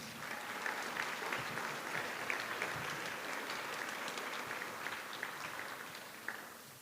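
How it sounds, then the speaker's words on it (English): Sustained applause from a fashion show audience, heard at a moderate distance, steady and even throughout with no talking. "Please give them another round of applause."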